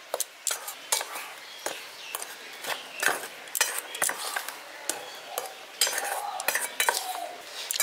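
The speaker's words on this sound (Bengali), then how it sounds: "এবার সব উপকরণগুলো শুকনো অবস্থায় আমি একবার মিশিয়ে নিচ্ছি।" Dry rice flour, wheat flour, semolina and sugar stirred together in a bowl with a spoon, giving repeated scraping clinks and soft rustles in an uneven rhythm, close and moderately loud, with no talk.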